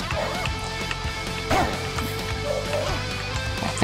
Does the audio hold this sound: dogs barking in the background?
yes